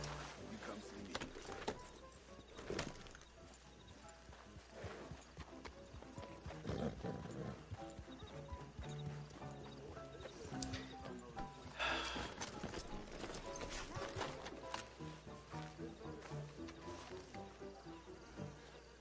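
Horse hooves clip-clopping in the Red Dead Redemption 2 video game, faint repeated hoof strikes with a neigh and outdoor insect ambience, quiet and low in level.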